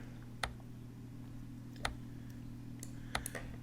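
A computer mouse clicks faintly and sparsely while moving pieces in an online chess trainer, about five or six isolated sharp ticks against a steady low electrical hum.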